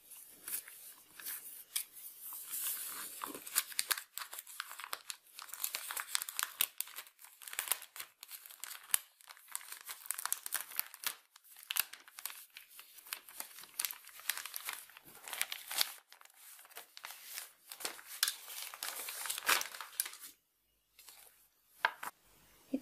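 Crinkly plastic packaging of an embroidery kit is unwrapped up close, with near-continuous crumpling and rustling, sharp crackles and tearing, and a short quiet gap just before the end.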